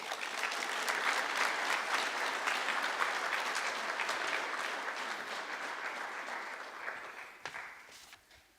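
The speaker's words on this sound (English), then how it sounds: "Please give a round of applause to Emma Overman." An audience at a senior honors night breaks into steady, full applause that carries on for several seconds, then thins out and tapers to a few scattered claps.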